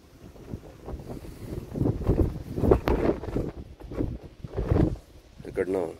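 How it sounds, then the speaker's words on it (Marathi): Wind gusts buffet the microphone outdoors at Korigad hill fort near Lonavala during rain, rumbling in surging waves, loud and close, while a person talks over it. "किती हवा आणि पाऊस आहे"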